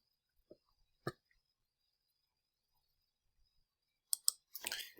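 Computer mouse clicks, a few isolated soft taps spread through near silence, then a quick cluster of clicks at the end.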